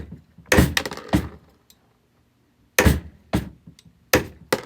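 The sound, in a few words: DIY murrine chopper chopping glass cane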